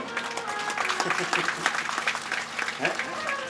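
Listeners at a Hindi religious discourse clap along in scattered bursts of moderately loud hand claps, with a voice talking over them the whole time.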